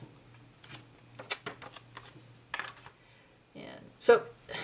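A tarot card deck being shuffled by hand, with several crisp riffling bursts and card snaps at close range, separated by short pauses, with no talking.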